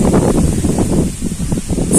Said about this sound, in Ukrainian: І вітром, бачите, як їх колише, роздуває.